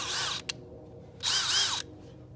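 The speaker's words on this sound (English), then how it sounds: "let's get to drilling" A power drill whirs in two bursts while installing Boonedox landing gear on a Hobie Outback kayak, a longer one at the start and another after a short pause, with a brief blip between them, close by.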